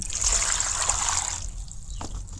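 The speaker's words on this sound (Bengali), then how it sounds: "এটারে জল দিয়ে পরিষ্কার করিয়া পটলটারে প্রথমে ওরকম চাচিলিম" Water trickles and splashes as pointed gourd (potol) is washed by hand, a soft, close dribbling for a couple of seconds that thins out toward the end.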